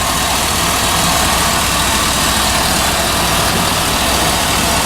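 A GM LS engine idles with a surging fault, producing a loud, steady, dense mechanical roar close by without clear rises or dips, with no talking.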